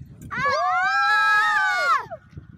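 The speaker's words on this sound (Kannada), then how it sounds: "ಒಂದು ಸ್ಪಾಟಲ್ಲಿ ಮಾತ್ರ ಕೂಗಿದ್ರೆ ಎಕ್ಕೋ ಬರುತ್ತಂತೆ" A long, loud human shout or yell rises and holds for about two seconds, then trails off, at the echo spot of the Hogenakkal waterfalls, with faint background noise before and after.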